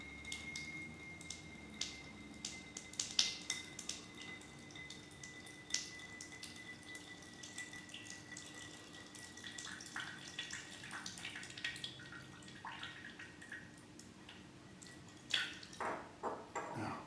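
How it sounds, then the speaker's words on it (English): Water running and dripping during a neti pot nasal wash, with scattered wet drips and splashes over a faint steady tap-like trickle, quiet and close, no talking. "Through both nostrils, expel the water."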